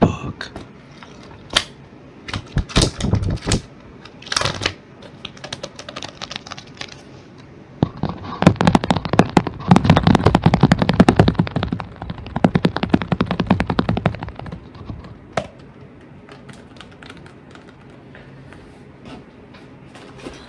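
Computer keyboard typing recorded close for an ASMR mic test, scattered clicky taps at first, then a dense rapid flurry of keystrokes in the middle, fading back to sparse single taps.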